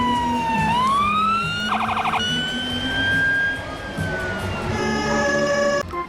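A toy fire engine's electronic siren wails loud and close, rising and falling tones with a brief rapid warbling burst, then switching to a different siren pattern before cutting off abruptly.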